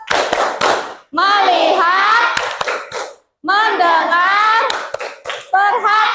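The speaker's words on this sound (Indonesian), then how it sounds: "kita tepuk fokus dulu ya" A class of schoolchildren at the start of a lesson performs the "tepuk fokus" focus clap, chanting in unison with sharp hand claps punctuating their loud group voices.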